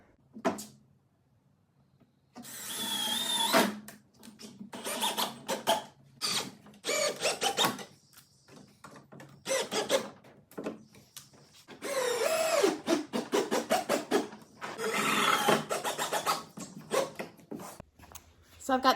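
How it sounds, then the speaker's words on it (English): A power drill drives screws into a 2x2 wood frame for a stacked brooder and rabbit nest box, heard as repeated whirring bursts of a few seconds each with short pauses between them, close and fairly loud. "So I'm gonna go ahead and screw these together."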